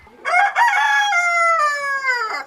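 A black Janzé chicken gives one long, loud, close crow lasting about two seconds, rising and then trailing off, with no voices.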